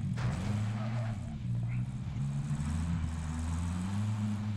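A vehicle engine drones steadily at low pitch while driving in Call of Duty Modern Warfare 2, a constant hum with small pitch shifts held throughout the moment, moderately quiet, with a player talking over it.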